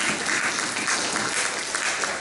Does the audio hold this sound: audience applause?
yes